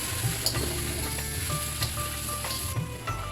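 Steady sizzling of potato sabzi in a hot pan with soft scraping and stirring clatter throughout, close and continuous, no voices.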